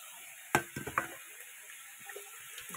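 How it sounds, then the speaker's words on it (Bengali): A bowl is briefly rinsed with water in a home kitchen while spice paste of tomato, cumin, ginger, garlic and dried chilli waits: two quick close splashes and clinks early on, then faint trickles against a steady hiss. "এই বাটিটাকে একটুখানি ধুয়ে দিচ্ছি"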